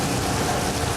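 Artificial rain shower on a Universal Studios Hollywood tram tour, a dense steady patter and hiss of falling water close by, continuous and fairly loud.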